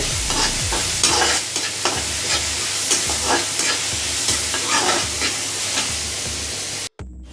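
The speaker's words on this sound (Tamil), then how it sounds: "இப்போது வெங்காயம் வந்து நல்லா ஃப்ரை ஆகட்டும்." Onions fry in ghee in a pan for prawn biryani, with a steady close sizzle broken by regular scraping strokes of a spoon stirring them, ending abruptly.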